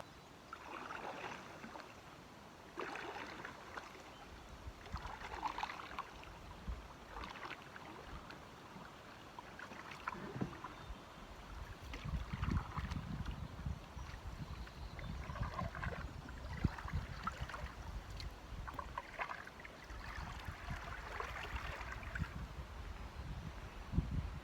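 A solo canoe is paddled on McEwen Lake, with soft intermittent water splashes and gurgles from strokes at a quiet level, under light wind noise.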